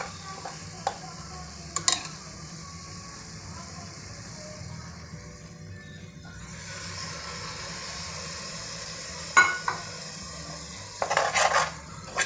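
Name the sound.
masala with yogurt sautéed and stirred in a pan for egg biryani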